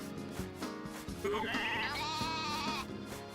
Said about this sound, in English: Everyone's very chatty today. The sheep they have a lot to say.